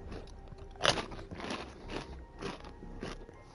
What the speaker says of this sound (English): you're chewing way too goddamn loud